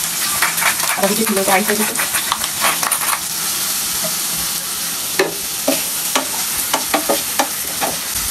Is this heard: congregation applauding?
no